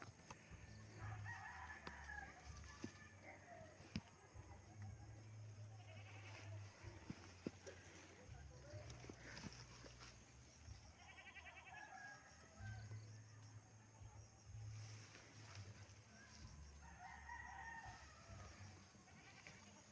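Hens and chickens cluck and call around a goat pen in the afternoon, mixed with repeated bleating from goats being returned to their enclosure, under a low steady background hum.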